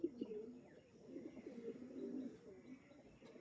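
A restless pigeon squirms in someone's hand and gives soft, low coos in a quiet, repeated run close by, with no talking.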